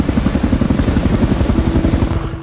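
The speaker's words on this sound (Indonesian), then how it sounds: "Beberapa jam kemudian, Joel terbangun karena suara deru helikopter datang dan dia melihat pasukan WF perlahan bergerak" A helicopter approaching with a loud, close, rhythmic rotor thump pulsing steadily throughout, a deep beating drone with a faint high engine whine above it.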